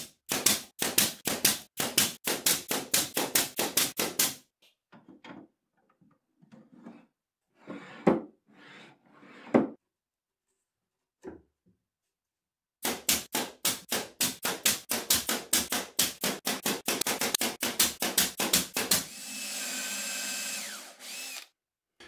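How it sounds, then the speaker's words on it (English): Brads are driven into a 1/4 inch drawer bottom panel on a wooden toolbox, as two long runs of rapid, evenly spaced nailer shots separated by a quiet stretch of scattered handling knocks, ending in a short steady whir. "I'm going to drive in a few brads instead"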